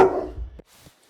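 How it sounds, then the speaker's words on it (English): Dogs barking loudly and close, a burst of overlapping barks filling the first half-second, then a fainter single yelp before trailing off into quiet. "The dogs were kind of going crazy."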